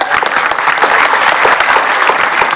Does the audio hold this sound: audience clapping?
yes